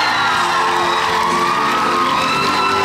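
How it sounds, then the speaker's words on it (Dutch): Loud, dense crowd cheering with whoops and shouts from an audience at the Miss Fashion 2020 pageant as a People's Choice Award winner is announced, steady and sustained. "Uw applaus voor Shawnee Reinders."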